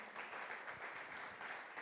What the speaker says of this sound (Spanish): Le damos un fuerte aplauso al Señor por su palabra.